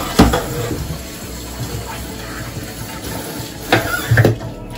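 Vinegar mixed with lemon water for Haitian pikliz is poured in a low continuous trickle, broken by a few louder splashes and knocks.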